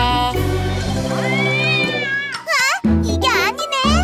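A cartoon cat meows in a children's song, sung meow-like tones rising and falling over backing music, with a child-like voice singing alongside.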